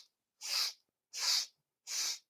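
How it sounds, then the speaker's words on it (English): Sharp, close nasal sniffs drawn in during a yoga breathing exercise, evenly spaced with short silent gaps between them; the first sniff is cut off at the very start. "4 sniffs in."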